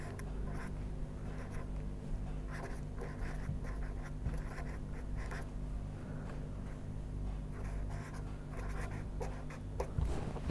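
Chalk or marker scratching steadily across a board in a lecture hall on fluid mechanics and boundary layers, with a low hum underneath and no talking.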